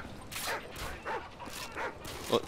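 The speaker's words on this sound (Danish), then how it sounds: "jeg tror, der kommer en hund bag dig" Dog barks from Call of Duty: Modern Warfare 3 Survival mode, a few short bursts spaced roughly half a second apart, moderately loud over game noise.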